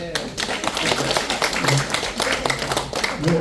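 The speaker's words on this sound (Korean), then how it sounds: "박수 한번 하세요." Audience claps during a Korean lecture, scattered individual hand claps with uneven rhythm, mixed with talk.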